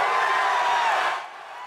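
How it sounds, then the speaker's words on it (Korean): A dense crowd of citizens outside the Constitutional Court erupts in cheering and shouting after a unanimous 8–0 ruling removing the president, loud and continuous before easing slightly. "헌법재판관 8대0 만장일치 파면에 함성이 터져나왔습니다"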